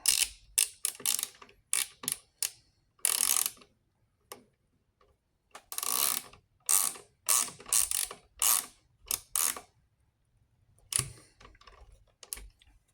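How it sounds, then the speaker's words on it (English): A Craftsman V Series ratchet tightens a carburetor bolt, giving repeated short bursts of rapid, crisp clicking up close, separated by brief pauses, with no talking. "We're going to tighten it back up there."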